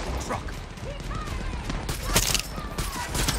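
Gunshots in the video game Far Cry 6 crackle in a busy, loud volley of sharp reports mixed with other game noise.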